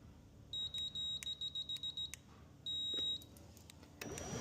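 An ATA GDO6 garage door opener gives a string of short, high electronic beeps in quick succession, then one longer steady beep after a pause, with faint clicks and a rumble at the end.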